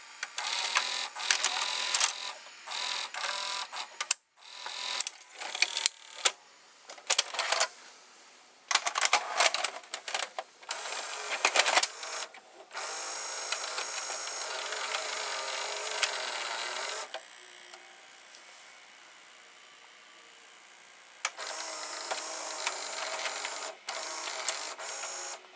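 An Emerson VCR mechanism ejects a VHS tape, with a burst of rapid clicks, clacks and gear chatter followed by two stretches of steady motor whirring separated by a pause.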